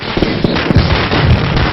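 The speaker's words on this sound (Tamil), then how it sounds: "யார் அவன் மனுஷனை நிம்மதியா தூங்க விடாம வெடிய போட்டது?" Rapid string of firecrackers bursting close by in a village welcome for a wrestler, sharp crackling pops repeating in quick irregular bursts, loud and dense over a short span.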